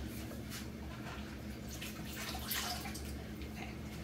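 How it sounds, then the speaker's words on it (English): Water trickles and drips as damp paper towels are squeezed out over a worm composter. The sound is soft, close and continuous, with a brief louder splash midway. "I just soaked up some water and squeezed it out."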